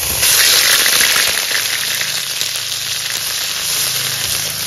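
Onion paste hits hot oil while a potol curry cooks, giving a loud, steady crackling sizzle that fills the whole stretch with no talking.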